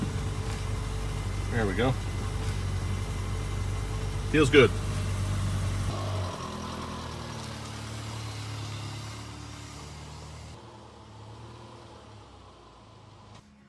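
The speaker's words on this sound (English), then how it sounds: "And then I'll start the car." A 2009 Subaru Forester engine starts and idles in a steady low hum after a rear brake job. A person speaks briefly over it, and the engine sound later fades lower.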